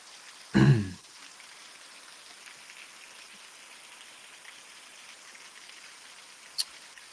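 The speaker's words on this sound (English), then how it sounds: "It sounds so peaceful there with the rain." Rain falls steadily and softly, running off overwhelmed eaves during a severe weather event, a faint continuous hiss with a brief loud thump near the start and a tiny click later.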